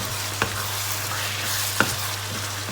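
Chili stir-frying with pork in a pan for pad kra pao cooked without vegetable oil, a low continuous sizzle with two sharp spatula knocks against the pan, close and fairly quiet.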